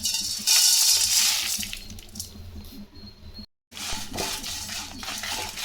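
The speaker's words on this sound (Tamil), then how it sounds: "கடாய் வச்சிட்டோம் லேசாக சூடு இது எல்லாத்தையும் இதில் கொட்டிக்கலாம்" Spices tipped into a lightly heated kadai for dry roasting turmeric and other masala for a ready-made kara kuzhambu mix: metallic clatter and dry rattling of pouring, with clinks of a utensil, close and fairly loud, no talk.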